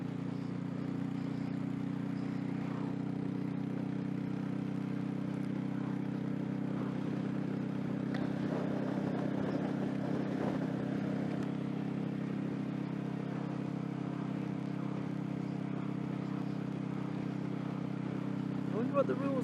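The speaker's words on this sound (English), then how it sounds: "Got the juddering when we're doing slow speed with the chain slapping" A motorcycle on a long touring trip rumbles steadily at slow speed with a low, continuous engine drone and a slight juddering, heard from close by throughout.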